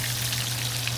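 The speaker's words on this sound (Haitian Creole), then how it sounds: "Nous mettons un bon piment frit là dans l'huile là" Chili pepper frying in hot oil alongside fish, a dense steady sizzle with a continuous low hum underneath, loud and close.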